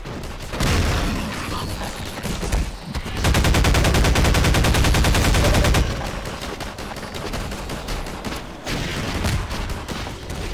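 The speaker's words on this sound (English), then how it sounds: "the rocket launcher." Rocket launcher firing in Half-Life 2 with the tickrate set to the lowest, heard as loud, dense bursts of booming gunfire and explosions, including a long sustained rattling stretch, filling the whole scene.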